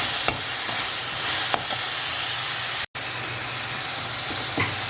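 Soaked poha being tipped into a frying pan for cucumber poha and stirred, giving a steady close sizzle and frying hiss with a few soft scraping stirs and one brief dropout.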